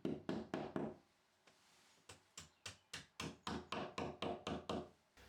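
Corefix plugs hammered into drilled holes in a dot-and-dab plasterboard wall: three quick sharp knocks, a pause, then a steady run of about a dozen evenly spaced hammer blows, close and loud.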